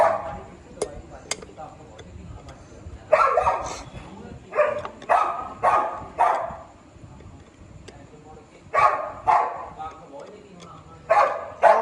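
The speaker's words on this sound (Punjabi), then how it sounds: "ਡੋਗੀ ਉਹ ਭੌਂਕਣ ਲੱਗਾ ਵੀ ਇਹਨੇ ਪਤਾ ਨਹੀਂ ਕੀ ਬਿੱਲੀ ਬੁੱਲੀ ਦੇਖ ਲਈ" A dog barks nearby in repeated short bursts, often in quick clusters of two or three, with quieter pauses between the bouts.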